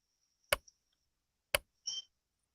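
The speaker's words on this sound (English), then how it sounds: "Where's that clicking coming from? Do you guys hear that?" Sharp isolated clicks about one second apart, crisp and close, with a brief electronic beep between them, set against silence during a fantasy football draft countdown.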